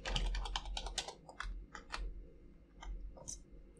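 Quiet, close computer-keyboard typing as a password is entered: a quick run of uneven key clicks that slows to a few scattered taps.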